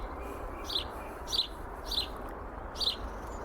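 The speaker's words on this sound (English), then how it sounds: "Hope you can hear the birds." Birds sing in an April garden near a greenhouse and fern bed, four short bright chirping phrases at regular intervals over a quiet outdoor hush, moderately distant and faint.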